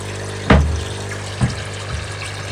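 Water fills a large aquarium tank as a constant rushing flow under a low hum, with a loud splash or thump near the start and a softer one a second later.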